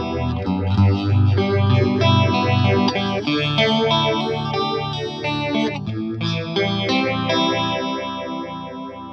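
Electric guitar played through a StewMac Lightcycle Phasor II DIY phaser pedal with the rate at maximum, giving a loud, steady, fast-sweeping warble over sustained chords, with no talking.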